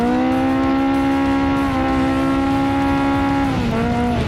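A Baja desert race car engine roars loud and close in a steady, high-pitched drone, the pitch holding then dipping slightly near the end as it eases off; no voices.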